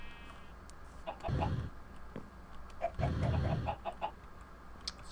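Minecraft chickens cluck in two short bursts over a faint ambient game background, a few clucks at a time, moderately close and otherwise alone.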